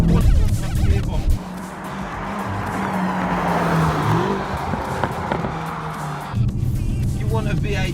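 A BMW M5 F10 with a 4.4-litre bi-turbo V8 drives, its engine note rising and holding strong with a brief tire-squeal-like tone, under someone talking throughout.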